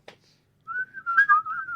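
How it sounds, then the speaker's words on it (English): Several people whistle a tune together in a scene from The Breakfast Club, a clear sustained melodic whistle joining after a brief click and continuing steadily to the end. "And then they're all whistling together."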